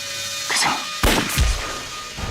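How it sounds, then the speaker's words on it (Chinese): A rifle fires in an anti-Japanese war action film: a sharp, loud blast, then a second heavier crack with a booming tail, over a brief moment. "开枪"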